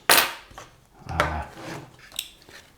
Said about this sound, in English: that sound is the sound of a knife that starts to get blunt